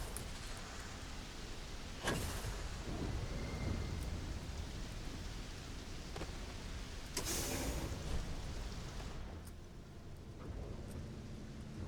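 Steady rain falls in the game Starfield, a dense hiss of drops with a couple of sharp thunder cracks and rumbles breaking through, heard alone without talk.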